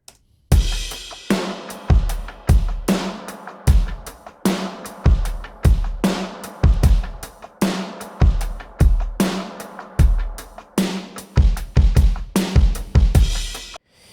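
Pop ballad chorus drum part, a sampled acoustic kit, playing alone: punchy kicks and sharp snare hits in a steady rhythm, loud and close, with cymbal wash between hits.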